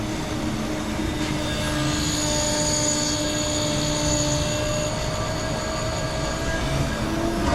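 A pump humming steadily on a Hummer H1 with a 6.5 Detroit diesel, a dense continuous mechanical whir with a faint high whine, close and unbroken, no talking.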